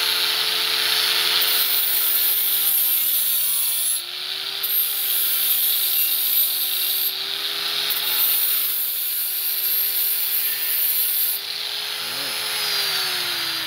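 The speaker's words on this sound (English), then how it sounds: "now I can go along with the grinder" An angle grinder trims the metal fender of a Jeep WJ Grand Cherokee, running as a loud continuous whine with a steady tone that dips briefly under load a few times, with no talking.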